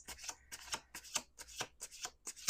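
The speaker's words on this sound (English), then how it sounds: "We're going to do one more shuffle." Tarot cards are shuffled close and fairly quietly, with a run of about a dozen quick crisp riffling bursts in an uneven rhythm and no talk.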